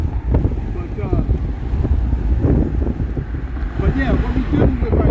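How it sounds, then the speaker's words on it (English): Strong wind on a rough day outdoors at a camp, buffeting the microphone in loud, uneven gusts and rumbles, with someone talking underneath. "This is it's a real rough day with all this wind."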